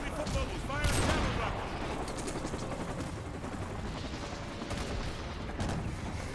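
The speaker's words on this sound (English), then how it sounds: "The evac site is taking heavy fire." Call of Duty: Modern Warfare 2 battle gunfire rattles continuously, dense overlapping rifle and machine-gun bursts with explosions and mechanical clatter filling the whole stretch, loud and close, with voices under the din.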